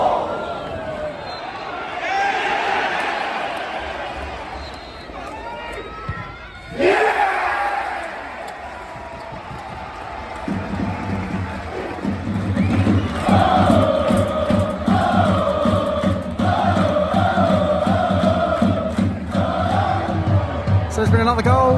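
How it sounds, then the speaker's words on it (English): Football crowd at a Maidstone United non-league match erupting after a penalty equaliser, a roaring surge of cheers and chants that builds and holds loud, with someone talking over it early on. "You can hear the crowd completely erupted"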